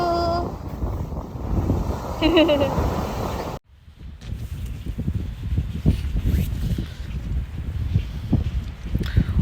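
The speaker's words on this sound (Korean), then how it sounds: "이 바람은 센데?" A strong, cold wind on the seashore at Gangneung buffets the microphone with a continuous roaring rush while someone talks over it.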